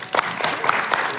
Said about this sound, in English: I felt something when we were clapping for you